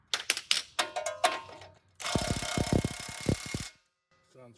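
A ratchet torques a steering stud to 65 foot-pounds during a death-wobble fix: a few separate close clicking bursts, then a loud, steady run of rapid pawl clicks, then a brief faint rattle.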